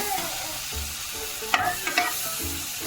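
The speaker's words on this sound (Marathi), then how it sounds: "फुलावर पण पडलेला होता घरात, तो पण टाकला. वटाणे टाकले. चांगलं असं परतून घ्यायचं." Cauliflower and peas are sautéed in a pan, a close sizzle broken by scraping spatula strokes and a few clicks against the metal.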